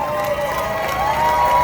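Crowd cheering and clapping at a live event, a dense, loud mix of voices and applause with a whoop rising near the end.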